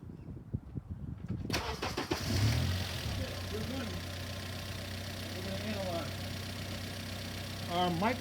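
Car engine picked up through Steelman diagnostic microphones, starting after a few seconds of noisy handling and then settling into a steady, close idle that runs to the end, with faint voice-like sounds over it.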